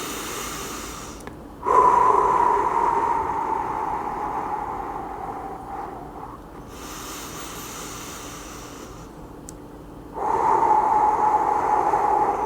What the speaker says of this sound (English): Let's go ahead and do 3 recovery breaths here together.